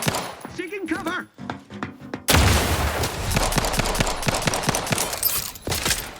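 Rapid gunfire from the video game Outer Worlds 2 erupts after a short stretch of talk, a dense loud burst of repeated shots continuing steadily to the end.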